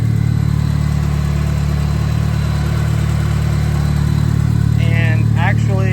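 The engine of a Mitsubishi Eclipse GSX that is running hot idles steadily with a low, even drone and constant hum, close by, while a person speaks briefly near the end.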